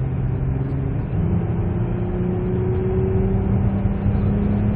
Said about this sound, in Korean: 잠깐 밟았는데 100km까지 올라가죠